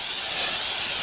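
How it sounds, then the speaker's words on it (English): Brief, steady hiss of cooking oil sprayed from a can into a bowl, close and continuous for about a second. "I will spray some oil around everywhere in the bowl."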